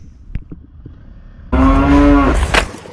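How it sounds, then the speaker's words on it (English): A cow on a volcanic sand road in Nicaragua lets out a single loud, close, drawn-out moo after a quiet stretch of faint thumps and rustling. "So yes, I just hit a cow."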